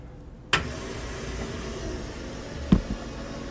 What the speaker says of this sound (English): You can hear the load on the pump.